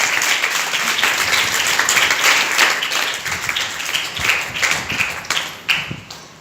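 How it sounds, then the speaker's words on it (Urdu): A church congregation breaks into loud, enthusiastic applause in praise of the Holy Bible, dense clapping that peaks early and then thins into scattered claps near the end. "بائبل قدس کے لیے زوردار تعریف۔"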